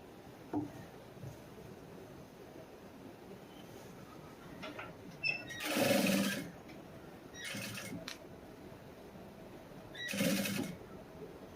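A sewing machine stitches the front part of a blouse in short, quiet runs of about a second each, heard as soft mechanical whirring bursts over a low background hiss.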